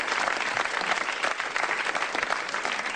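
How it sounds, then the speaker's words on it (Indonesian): A stand-up comedy audience bursts into dense, sustained applause, many hands clapping together loudly and evenly throughout. "tepuk tangan dulu yang meriah"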